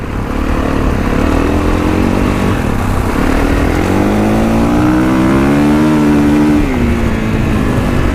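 A Kawasaki KX dirt bike engine revs loudly and close by, holding a steady roar and then climbing and falling in pitch through several throttle swells.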